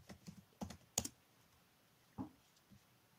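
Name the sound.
typing a search word on a keyboard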